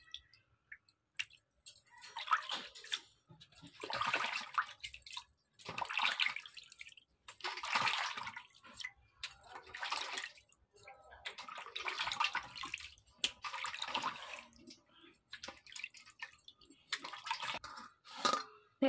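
Tap water runs in repeated bursts as bhetki fish is rinsed, each gush splashing for a second or two, separated by brief quiet pauses.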